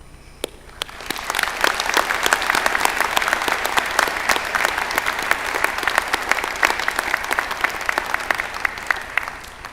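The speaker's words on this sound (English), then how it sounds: "So please join me for the most important applause of them all" Sustained applause from a large crowd at a university graduation ceremony, dense clapping rising quickly after a brief start and holding steady throughout, with no talking.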